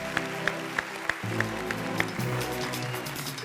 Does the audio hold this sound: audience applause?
yes